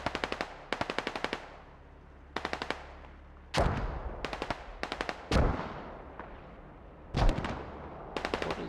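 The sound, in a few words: rocket explosion in a video game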